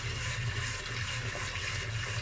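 A water tap opened fully in a lab setup pours a strong, steady rushing stream, loud and continuous and close by, with no talking.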